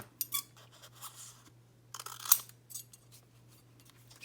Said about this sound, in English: I'm just going to trim it down to fit.